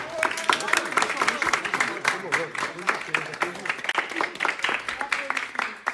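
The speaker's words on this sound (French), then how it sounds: "Incroyable, applaudissements." Steady applause from a group in a villa greets news of a Comorian fast-food spot; the dense clapping runs throughout, with voices talking and calling out over it.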